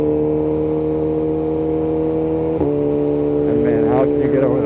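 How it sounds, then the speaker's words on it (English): A BMW S1000RR motorcycle engine revs steadily with a high droning tone, then snaps through a quick-shifter change with a brief pitch jump, followed by rising revs and a short layer of background voices. "how can you get over that quick shifter sound?"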